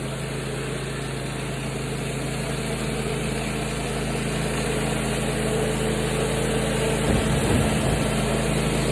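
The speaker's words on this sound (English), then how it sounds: "Got the machine running in the surface cleaner." A pressure washer engine runs with a steady, loud droning hum while a surface cleaner sweeps the ground, a continuous near mechanical drone with no talk.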